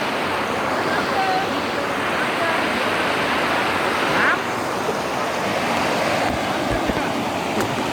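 Rushing stream water in the rainy season near Karjat, a steady broadband roar of flowing water filling the whole stretch at close range, with no clear voices above it.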